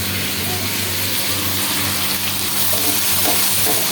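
Ribbonfish frying in hot oil gives a continuous crackling sizzle, loud and close, with a faint low hum running beneath it.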